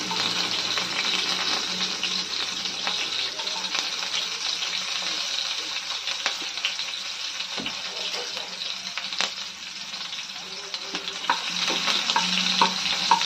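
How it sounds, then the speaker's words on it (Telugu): Onions fry in hot oil with mustard seeds for a lentil curry: a dense, continuous close sizzle with scattered pops and soft stirring scrapes, no talk. "ఆయిల్ కొద్దిగా హీట్ అయిన తర్వాత ఒక పావు టీ స్పూన్ అంతా ఆవాలు వేస్తాను ఇప్పుడు ఇందులోకి ఉల్లిపాయలు వేసుకుంటున్నాను"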